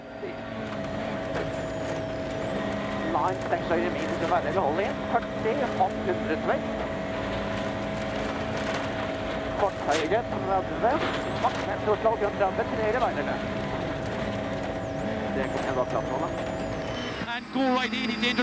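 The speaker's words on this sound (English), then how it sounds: "a chance now to enjoy the Volkswagen Polo R's charge from above through the flat-out corners of Kakaristo" Volkswagen Polo R rally car charging flat-out through fast corners on a Finnish gravel rally stage, its engine a steady high-revving drone held continuously from a distance, with a commentator talking over it.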